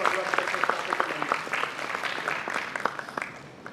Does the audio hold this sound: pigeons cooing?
no